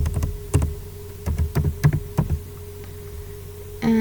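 Keys clatter on a computer keyboard while data is edited, with a close, irregular run of crisp clicks in quick clusters, then a pause and a final tap.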